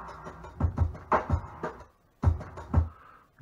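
A funk drum break sampled from a record plays loud and close: punchy kick and snare hits in a syncopated groove, two short bars with a brief gap between them, no voices.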